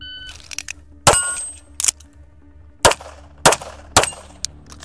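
Atlas Apollo pistol fired during a reload drill: sharp, loud shots in a short group, a pause, then three more evenly spaced cracks, with faint handling noise between them.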